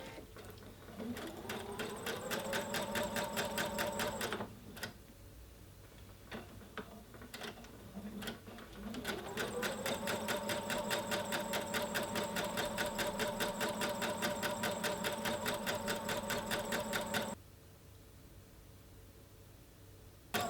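A sewing machine stitches a fabric ruffle in two long, even runs of rapid mechanical clatter. A short pause with a few clicks falls between them, and the machine stops abruptly near the end.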